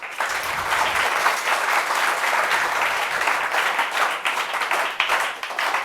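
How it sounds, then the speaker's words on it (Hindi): A room full of people gives selected students a sustained round of dense applause, even and fairly loud throughout, with no voices breaking through. "इन बच्चों के लिए तो तालियां"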